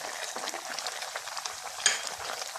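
Onion and tomatoes fry in a pan for a braise of broad green beans and meat, giving a steady, close hiss with soft crackles. One brief louder spatter rises near the end, and no one speaks.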